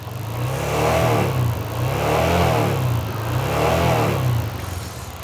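A motorcycle engine revs up and eases off three times in steady swells, loud and close, with no voices.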